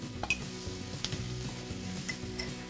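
Turmeric, garam masala and other ground masala spices go into a pan of pindi chole, with a steady sizzle and frying crackle plus a few light clinks of a utensil against the pan.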